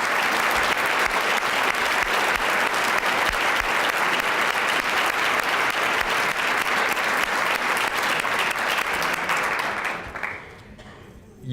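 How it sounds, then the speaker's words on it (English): Sustained loud applause from a recognition dinner audience fills the room for about ten seconds, dense and steady, then quickly fades out to near silence. "Please join me in one more round of applause for everyone we recognize tonight."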